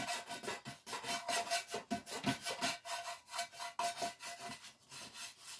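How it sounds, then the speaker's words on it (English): A small bristle brush buffing back and forth over a freshly painted lamp, giving steady rhythmic scrubbing strokes, close and moderately loud, with no talk. "I like to do this just a little extra buffing"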